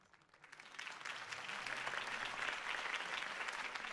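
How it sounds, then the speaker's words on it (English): Crowd applause follows a campaign speech by Harvey Dent in Batman: The Telltale Series, swelling from quiet into sustained, even clapping from many hands, heard alone. "could have heard that applause"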